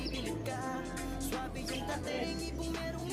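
Pigeons coo and call close by during a pigeon race as racing birds come home, soft repeated bird calls over a low steady background hum.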